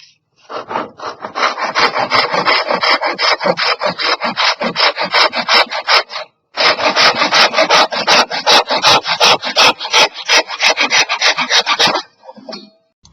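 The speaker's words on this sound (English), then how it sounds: "I'm just going to use a pull saw" A pull saw cuts through a wooden pen blank in two long runs of quick, rhythmic rasping strokes, loud and close with a brief pause between the runs and no talking.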